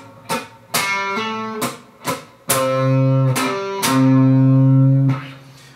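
A guitar riff is picked slowly, one note at a time, including a quarter-tone bend. Short plucked notes give way to two longer ringing notes, clear and close.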